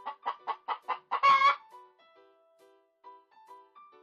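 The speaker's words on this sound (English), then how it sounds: "The rooster is walking." A rooster clucks in a quick run of about six sharp, close calls, then gives one louder squawk, followed by quieter, drawn-out clucks on its own.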